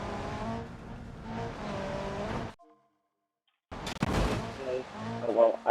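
A car in the driving game BeamNG.drive, on the Eastern Countryside map, runs with engine and tyre noise, cuts to a brief silence, then smashes into a tree with loud, sharp impact crunches and rattling debris.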